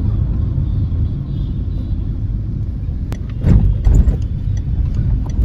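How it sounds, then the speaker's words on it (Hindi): Car creeping through heavy road traffic near a shopping mall in Lucknow, a loud steady low engine and road rumble, with brief clattering sounds toward the end. "और अभी भी हम लोग ट्रैफिक में ही हैं।"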